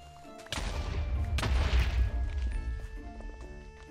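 A loud blast bursts in and rumbles for a couple of seconds, with a second sharp crack partway through, then fades into lingering game noise.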